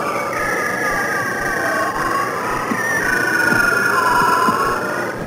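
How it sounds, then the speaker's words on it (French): A bearded seal sings underwater in Arctic drift ice, long descending and wavering whistle-like trills sweeping down in pitch and repeating across several seconds, loud and close against a faint hiss. "Voici le chant de l'Erignatus, le phoque barbu."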